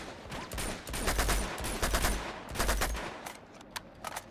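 Bursts of automatic gunfire from a third-person shooter (Uncharted 2: Among Thieves), dense rapid volleys in several clusters with a few sharper isolated shots near the end, loud and continuous with no talking.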